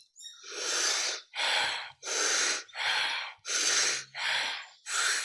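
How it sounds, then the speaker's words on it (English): Deep, forceful breaths run in a steady in-and-out rhythm of about seven loud, airy cycles, close up and alone, as a breathing exercise. "So, breathing like this."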